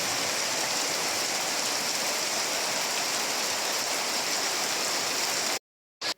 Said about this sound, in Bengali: বৃষ্টির শব্দ আমার মনে হয় সবার কাছেই ভালো লাগে